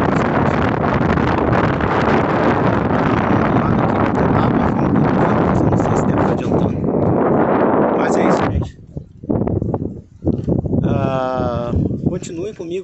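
Strong outdoor wind roars loudly against the microphone in heavy buffeting gusts for most of the time, easing near the end as a voice briefly speaks.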